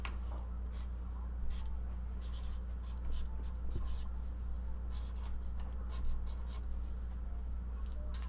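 A Sharpie marker scratches and rubs across paper in continuous strokes, faint and close over a low steady hum, with no talking.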